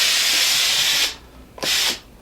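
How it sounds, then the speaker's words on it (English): A Rowenta DG5030 compact steam station iron lets out a loud, close hiss of steam for about a second, pauses briefly, then gives a second shorter burst, with no talking. "It actually pushes steam really well."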